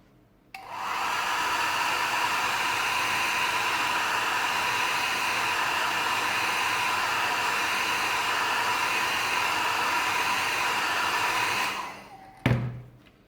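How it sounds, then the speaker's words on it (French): A hair dryer runs on a 1/24 Aoshima Pagani Huayra model car kit, switching on with a steady loud whooshing whine for about eleven seconds, then powering down with a clack. "Un dernier coup de sèche-cheveux."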